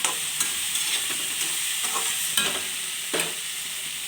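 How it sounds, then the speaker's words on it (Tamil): Chopped capsicum sautéing with salt in a hot pan, a steady sizzle broken by several sharp spatula stirs and scrapes that recur every second or so, close and fairly loud. "உப்பு போட்டு இந்த மாதிரி வதக்கிடுங்க."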